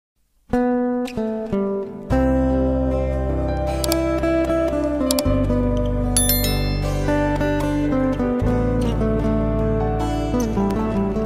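A notification bell sound effect: bright, bell-like rings sit over sustained, music-like tones, loud and continuous with no speech.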